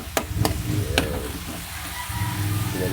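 Tomatoes and chili fry in hot oil, a steady close sizzle broken by a few sharp clacks of a utensil against the pan in the first second.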